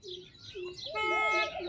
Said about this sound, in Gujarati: જો તમે પક્ષીઓનો કલરવ પણ સાંભળી રહ્યા છો.